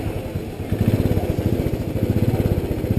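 A 2019 Royal Enfield Classic 500, a carbureted single-cylinder motorcycle, idles close by after a restart, its engine thumping in a steady, loud, lumpy rhythm with mechanical clatter and no talk.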